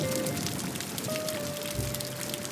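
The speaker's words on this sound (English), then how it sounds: "The rain is slowing to a light patter" Light rain patters steadily outside a blue Cadillac, a dense, even hiss of drops with faint tonal sounds drifting underneath.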